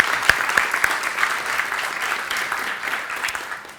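Audience applause in a conference hall fills the room with steady, dense clapping, a few sharper claps standing out early before the sound thins slightly toward the end.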